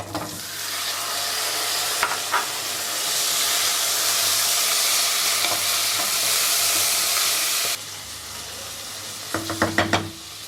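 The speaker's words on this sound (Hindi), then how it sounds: "हमारा प्याज भी अच्छे से ब्राउन कलर हो गया है। अब हम इसमें डालते हैं मीट, एंड सेकेंड हम डालते हैं पोटैटो" Meat and potatoes sizzle loudly in a pan of browned onions for Ladakhi skyu, with a constant close hiss, a few spoon knocks, and the sizzle dropping near the end before more sharp stirring clinks.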